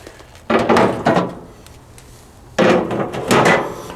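Heavy cast iron porcelain-coated grates on a Char-Griller 980 Gravity Series grill go into place with two loud clunking bursts of metallic knocks and scrapes, a short quiet gap between them.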